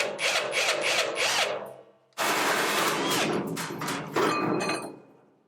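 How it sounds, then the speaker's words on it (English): A power drill bores a hole during home renovation, running in loud sustained bursts with a brief pause, then a longer whining run that shifts pitch near the end; no talking. "I drilled surprisingly easy."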